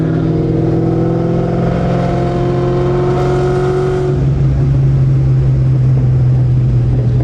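Loud, close exhaust note from a cammed Terminator Cobra with a Boral ATAK exhaust, a steady lopey drone that drops to a deeper rumble partway through, with crackling backfires at low speed.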